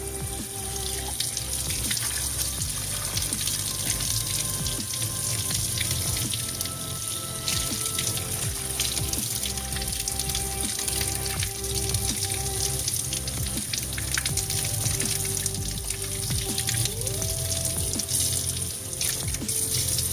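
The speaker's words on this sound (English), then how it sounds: "Now we rinse the plate." Tap water runs steadily over a plate being rinsed in a kitchen sink, a continuous close splashing rush with faint clinks and no pauses throughout.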